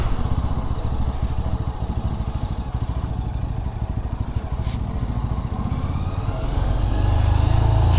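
A Yezdi Adventure motorcycle climbs through the misty Kodaikanal hills, its engine note a steady close rumble with dense rapid firing pulses that swell louder near the end, with no voices.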